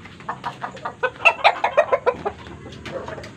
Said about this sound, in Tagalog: Dito yung mga manok.